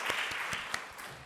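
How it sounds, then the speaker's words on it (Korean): A church congregation at a Sunday morning service claps briefly and faintly, a soft, even patter of many hands in a large room. "우리 한번 하나님께 박수하도록 하겠습니다"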